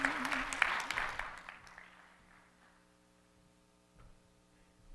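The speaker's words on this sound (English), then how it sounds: "one more huge round of applause for our readers, Aurora Mattia, Imogen Smith, Miranda Mellis" Audience applause at a Nightboat Books literary reading at AWP26 fades out over about two seconds, leaving a quiet room with a steady mains hum.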